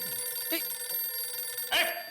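A mobile phone in a home rings with a repeating electronic ringtone, bright warbling bursts sounding over a steady tonal background; moderately loud and close, with no one speaking during the ring.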